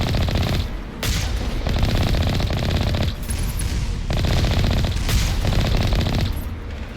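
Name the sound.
gunfire shooting turrets in video game Mass Effect Legendary Edition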